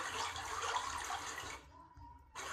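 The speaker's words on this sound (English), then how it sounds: "the sound of a quiet river" Quiet river sound effect: a soft, steady wash of flowing water that drops away near the end, then briefly returns.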